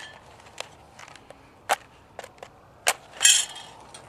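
A match is struck to light a fire starter disc: a few sharp scratchy strikes and clicks, the last one flaring into a brief hiss, heard close and alone.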